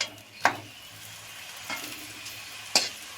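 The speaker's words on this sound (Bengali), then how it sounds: "আজকে পরোটাগুলো ভাজবো সর্ষের তেলে।" Aloo paratha frying in hot mustard oil, with a low steady sizzle broken by three sharp spatter bursts as the flatbread is handled and turned in the pan.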